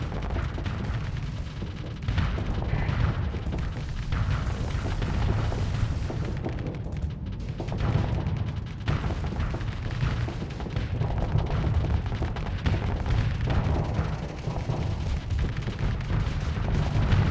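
Starsector space battle with fighters and missiles firing, a dense, steady barrage of booming impacts and thuds over a constant low rumble, loud and continuous with no voices.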